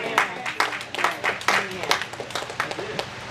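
A church congregation claps during a sermon on deliverance, the claps coming in scattered, irregular bursts of sharp hand-slaps, fairly close and lively, mixed with murmuring voices and talk underneath.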